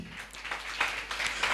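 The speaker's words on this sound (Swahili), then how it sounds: "Makofi mazuri." Scattered hand clapping from a church congregation, moderately faint, arriving in soft uneven bursts over quiet room ambience.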